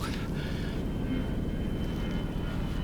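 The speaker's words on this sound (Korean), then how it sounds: "비행기 소리다." A video-game airplane drones overhead, a steady, loud broadband engine roar filling the whole short stretch without talk.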